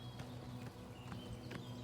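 Horse hooves clip-clop in the video game Oblivion, four evenly spaced soft thuds in a slow walking rhythm, faint and low over a steady background drone.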